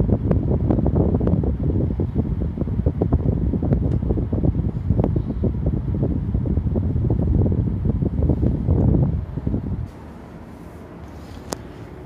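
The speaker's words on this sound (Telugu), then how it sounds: "ఒకసారి బ్లోయర్ సౌండ్" The blower fan of a Samsung AR18AY5YATZ air conditioner indoor unit runs with a loud, steady rushing whoosh that cuts off abruptly near the end, leaving a faint hum.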